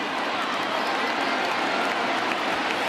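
A baseball stadium crowd of about 26,000 fans rises to its feet with a broad, steady roar of cheering and clapping that fills the whole stretch at a constant loud level.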